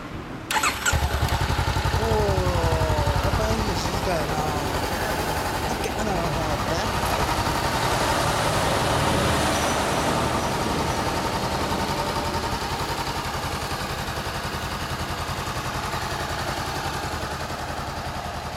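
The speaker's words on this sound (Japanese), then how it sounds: "エンジン音聞かせて。" A 2014 Honda CB400X motorcycle starts with a sharp crank and catch, then settles into a steady close-up idle, with people talking faintly in the background.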